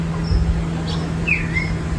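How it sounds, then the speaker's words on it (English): Northern mockingbird song: a few thin, sparse chirps and a short whistled phrase at middle distance over a steady low hum and background noise. "That was a northern mockingbird."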